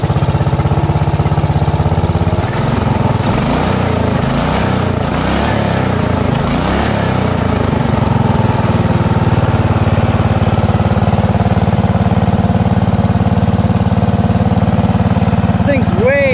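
A riding mower engine fitted with a small, simple muffler runs close by, starting with a brief rough surge and then settling into a steady low idle. A voice talks briefly over it.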